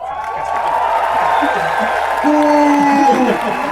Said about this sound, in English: And a cheer for our festival mages.